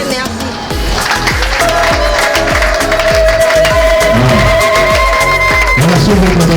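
Applause at a closing conference for the month of March in Limete fills the room, continuous clapping under a pulsing beat and sustained musical tones, fairly loud and steady.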